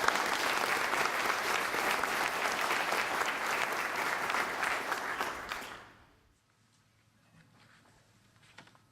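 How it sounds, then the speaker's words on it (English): Audience at a restitution conference gives a sustained round of applause, dense even clapping for several seconds that fades out to near quiet, with faint stray claps near the end. "I'm going to ask you to really give Dion an acknowledgement and a round of applause and his board for the work that they do."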